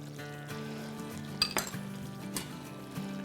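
A utensil stirs lemon juice into chicken in a metal pot, with a few clinks and scrapes against the pot over a low, steady background hum, close and fairly quiet.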